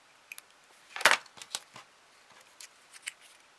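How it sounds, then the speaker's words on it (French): Scissors cut a small square of paper about 2 cm wide in a few sharp, close snips and rustles, with one louder snip near the start and quieter clicks after it. "Et ce que vous allez faire, vous allez couper un petit carré."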